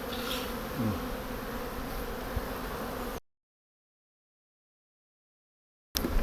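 Dense, steady buzzing of many Buckfast honeybees close by for about three seconds, then sudden silence before the swarm's hum returns briefly at the end.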